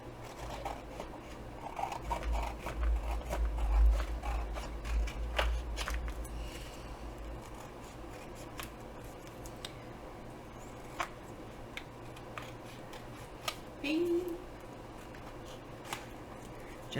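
Scissors trim paper from junk mail envelopes for embossed tags, heard as a faint, close run of soft cutting and rustling with scattered small snips and clicks, a low rumble early on, and no speech.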